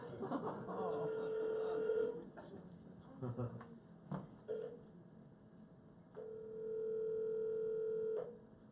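A phone ringback tone during a Wi-Fi call from a T-Mobile phone to an AT&T line made at sea, with two steady electronic ring bursts separated by a pause, faint handling noises in between and no speech.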